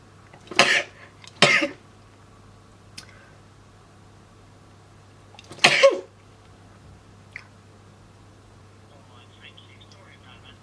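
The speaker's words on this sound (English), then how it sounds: "I'm gonna sneeze." Three sharp, loud sneezes stand out over a low steady hum, two close together and a third a few seconds later.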